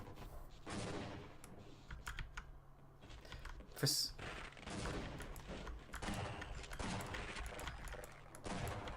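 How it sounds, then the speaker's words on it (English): A grenade explodes in the video game Half-Life with one sharp, loud blast partway through, amid busy game noise and dense clicking from a computer keyboard. "I'm going to blow that up by throwing the grenade properly this time."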